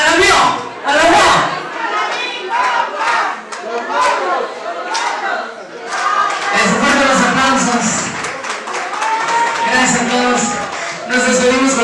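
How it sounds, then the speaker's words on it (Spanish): Wedding guests applaud and cheer loudly for the bride and groom, a dense wash of clapping, whoops and crowd chatter that swells over several seconds, with an MC's voice calling out over it. "Vamos a darle un aplauso muy fuerte y una porra que se escucha hasta allá afuera para los novios"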